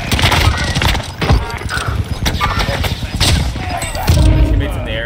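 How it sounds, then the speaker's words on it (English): Gunfire sounds in a video game firefight: repeated sharp bursts and impacts crack close by in quick, irregular succession throughout. "I'm getting shot at."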